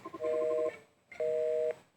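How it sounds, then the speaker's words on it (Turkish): Two long electronic tones from a telephone in a video game, each about half a second with steady stacked pitches, separated by a short gap; a hang-up signal heard clearly and alone with no talk. "Telefonu kapattı."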